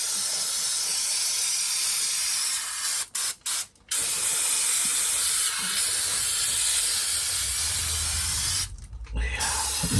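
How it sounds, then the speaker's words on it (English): Brake cleaner sprayed in long continuous hissing bursts onto the parts of a 1964 Chevrolet C-10 Turbo 350 transmission, loud and close, broken by a few short pauses and a longer gap near the end. "Let's give it the old brake clean job."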